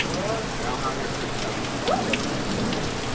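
Heavy rain pours down steadily and loudly in a constant dense wash of drops, with faint voices in the background.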